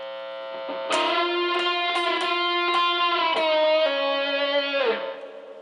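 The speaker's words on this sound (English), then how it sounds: "And then here's with a little of the spring reverb." A sustained electric guitar played through a Yamaha THR5 amp plays a few chords and single notes, with a bright, washy spring reverb tail ringing and fading at the end.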